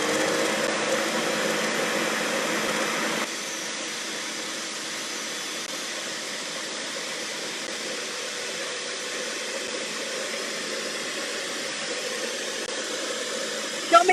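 A vacuum attachment kit cleaning a sewing machine runs as a steady loud whooshing roar, its pitch shifting slightly a few seconds in as the nozzle moves, continuous with no talking.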